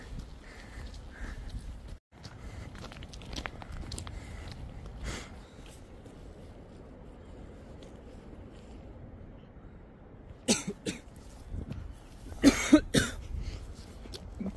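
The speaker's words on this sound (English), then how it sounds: "Coughing." Coughs outdoors by an abandoned water tower in an ocean breeze, a few scattered early and then a louder cluster of sharp bursts near the end, over a soft wind-like background.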